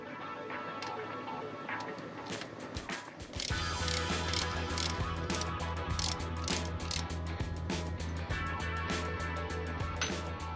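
A ratchet tool removes a screw from a Mercedes-Benz Actros pressure lever, with quiet workshop handling giving way to a steady, close run of rapid clicking over a low mechanical hum.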